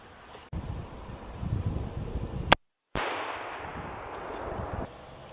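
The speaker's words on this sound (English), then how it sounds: "I tested the 200 grain Sierra round nose 35 Remington bullet in my contender" A single gunshot from a Thompson Center Contender with a 16-inch barrel firing a 200-grain Sierra round-nose 35 Remington bullet outdoors, a sharp crack followed by a brief dropout and then wind noise.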